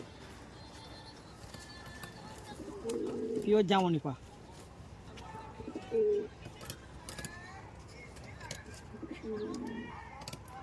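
Teddy pigeons of the high-flying breed in Murshidabad give a few low coos in short bursts while someone talks close by.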